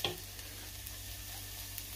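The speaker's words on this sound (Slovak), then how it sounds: "Keď máš cibulku do zlatova, dáš cesnak. Chvíľku opražíš." Garlic frying with golden-browned onion in a pot for tomato soup, a steady, quiet sizzle that holds evenly for about two seconds with no talking.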